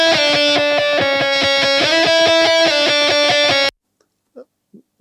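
Synth lead brightened with Neve EQ and a tube compressor plays a steady rhythmic pattern of bright sustained notes, loud and alone, ending abruptly with a couple of faint sounds afterward.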